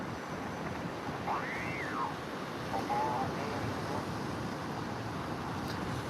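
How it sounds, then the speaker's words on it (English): Steady ocean surf roars continuously at moderate loudness, with a faint warbling radio tone drifting through near the start. "So with the sound of the ocean,"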